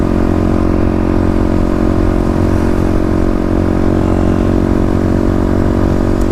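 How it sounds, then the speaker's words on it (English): Kawasaki KLX351 dual-sport motorcycle ridden during engine break-in, its steady mid-pitched engine drone loud and continuous with wind and chassis clatter, no talking. "We are out on the KLX again, and we are gonna finish the break-in."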